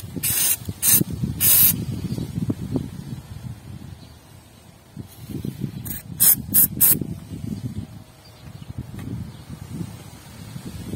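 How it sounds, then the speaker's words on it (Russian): Several bursts of WD-40 penetrating spray aimed at a diesel injector on a 1.9 TDI AFN engine, each a sharp close hiss separated by pauses, with a few mechanical clicks and low handling noise between sprays. "Но предварительно надо пробрызгать ВД-шечкой сюда."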